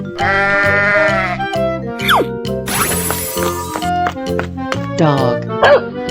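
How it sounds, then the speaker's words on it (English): Sheep bleating in a 3D animal slide game, a few wavering bleats standing out over upbeat looping background music, with voice-like sounds mixed in. "sheep"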